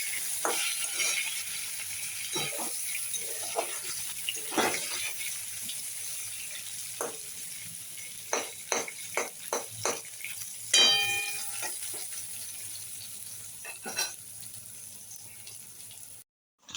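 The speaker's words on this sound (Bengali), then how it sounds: "দেখো আমার আলুগুলো ভাজা হয়ে গেছে।" Potatoes fry in oil at a low, quiet sizzle, broken by scattered clinks and stirring knocks from the pan with no talking.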